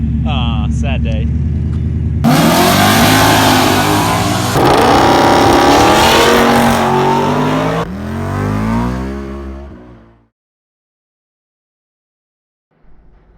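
A tuned car engine on two-step launch control revs hard, crackling and popping loudly up close in several sustained bursts before cutting off into silence, with a faint sound returning at the very end.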